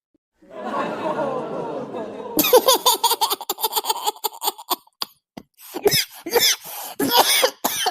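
Several harsh coughs break out close by amid lively chatter and some laughter, coming in uneven bursts, in a hot summer setting.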